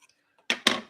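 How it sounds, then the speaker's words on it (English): Two quick crisp snips or tears of packaging, close and fairly loud, following a near-silent stretch with faint clicks, as scissors cut open a boxed package. "Where's my scissors?"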